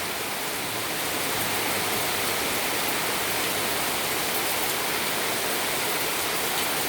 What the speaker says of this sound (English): That's a lot of rain over there.